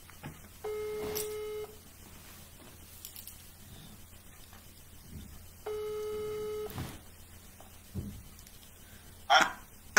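Outgoing telephone call ringback tone: two long electronic buzzing tones about five seconds apart, with quiet line hiss between them and a brief click near the end.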